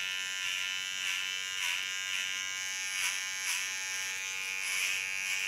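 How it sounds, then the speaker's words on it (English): Small electric hair clipper buzzing steadily as it cuts a bob line in hair, close and continuous with a gently pulsing hum as it passes over the strands, no talking. "Take a small clipper. Start applying the line."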